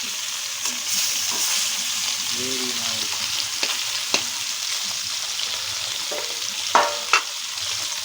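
Fish pieces frying in oil give a steady, close, loud sizzle throughout, with occasional clinks and scrapes of a utensil and brief speech partway through.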